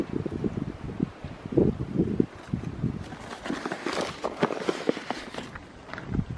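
Gusty wind blows outdoors, buffeting and rustling in uneven bursts close to the microphone, with scattered rustling and footstep-like scuffs, fairly loud and without speech.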